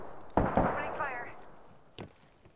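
Gunfire in a battle royale video game: two sharp shots close together, then another single crack about a second and a half later, all fairly faint and fading into quiet.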